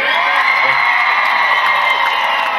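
A concert audience cheers loudly, a dense sustained roar of whoops and shouts that stays constant from start to finish.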